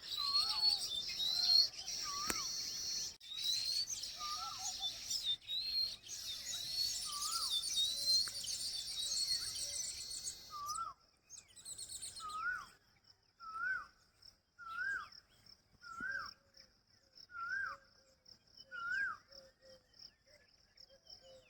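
Repeated short chirps from house sparrows at a nest, close by, over a steady high insect buzz that fades midway; chirps come in a loose regular rhythm.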